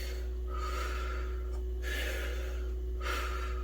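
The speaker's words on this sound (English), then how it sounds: "We slow our breathing down" Slow, controlled breathing in a calm relaxation exercise, with long drawn breaths spaced about a second apart over a steady low background hum and no talking.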